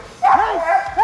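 A protection dog in bite training gives a short, close yelping bark followed by a whine, with quick high-pitched bursts at close range.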